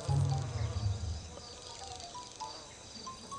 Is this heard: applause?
no